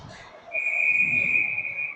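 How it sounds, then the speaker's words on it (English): A referee's whistle at an ice hockey game sounds one sustained, piercing blast of about a second and a half, clear over faint arena murmur. "We got a whistle"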